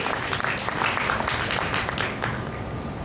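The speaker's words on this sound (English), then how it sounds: "A big round of applause for ourselves." Audience applause at a valedictory session: steady, dense clapping from a sizeable crowd, fairly close and even in loudness, filling the whole short stretch without a break.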